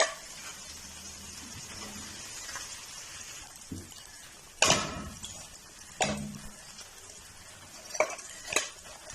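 Chicken frying in a pan, heard as a quiet sizzle with stirring, punctuated by a few sharp utensil knocks and scrapes against the pan at irregular moments.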